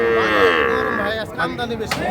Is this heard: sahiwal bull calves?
yes